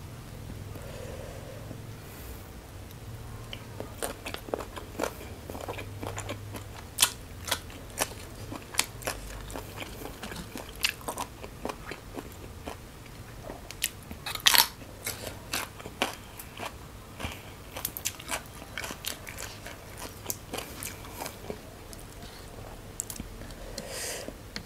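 Close-up crunching and chewing of spicy Thai papaya salad with crisp snail meat, a steady stream of sharp crisp bites and wet mouth sounds with occasional louder cracks.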